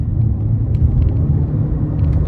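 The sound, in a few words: Omoda 5 2026 car accelerating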